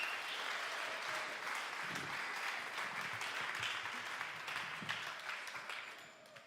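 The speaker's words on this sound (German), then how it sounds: "Jetzt gebt dem Manuel einen fetten Applaus" An audience at a Q&A event claps as a speaker comes on stage: steady, moderately faint applause that lasts about six seconds, with no talk over it.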